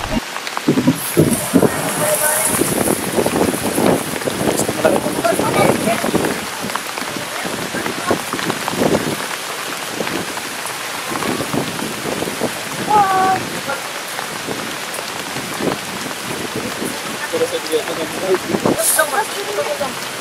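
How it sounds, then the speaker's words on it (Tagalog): Steady heavy rain with strong gusty wind fills a night street-food boulevard in Surigao City, Philippines, while people talk and shout over it throughout. "Ang lakas ng ulan ngayon, ang lakas ng hangin."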